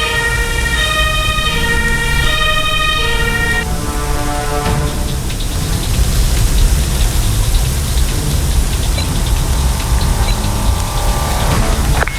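A wailing ambulance siren in the Emergency video game sounds loud and repeating for several seconds, then fades under a steady hiss like rain that continues throughout.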